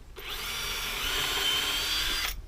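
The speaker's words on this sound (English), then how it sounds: "When you're drilling at an angle, always start your drill like that." A cordless power drill spins up and runs for about two seconds while drilling into wood at an angle, a loud steady high whine that starts and stops abruptly.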